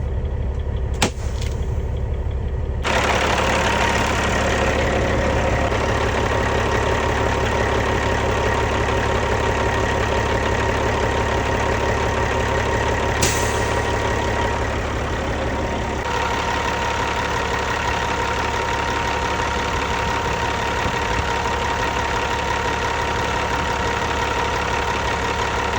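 A Kenworth W900A diesel truck engine idles steadily and loudly up close, a constant low rumble with a faint knocking texture, no voices.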